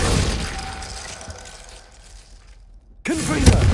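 A Glacius ice spell goes off in a Harry Potter video game, a loud shattering, crackling burst that fades over a couple of seconds before a new impact cuts in.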